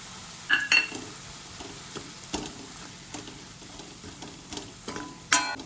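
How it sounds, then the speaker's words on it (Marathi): Grated coconut roasting in a pan for a mutton rassa, with a continuous low sizzle and occasional sharp metallic scrapes and taps from a spatula stirring it, close up with no talking. "खोबरं आपल्याला जास्त करपवायचं नाहीये, थोडा हलकासा ब्राऊन कलर होईपर्यंत भाजायचं।"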